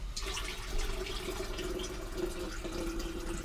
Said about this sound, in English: I need some water in the kettle